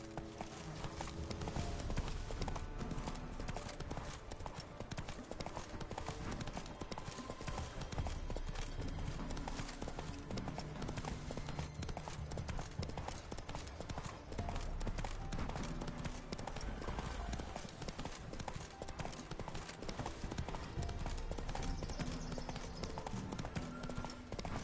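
Roach the horse gallops in The Witcher 3, hooves clip-clopping in a fast, continuous rhythm under game music and ambient sound, with a voice speaking briefly.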